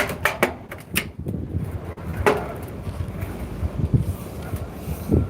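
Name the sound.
strong wind blowing by a river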